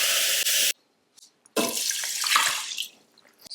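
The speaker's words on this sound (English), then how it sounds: "I've got that 1 cup of white rice, and I'm going to add exactly the same amount of water" Water pours from a tap onto a cup of white rice in an Instant Pot Mini: a bright rushing stream in two bursts separated by a short pause, close and loud, with small splashes and trickles.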